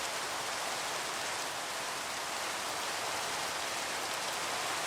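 Steady rain falls evenly throughout, a dense, continuous hiss with no pauses and no voices.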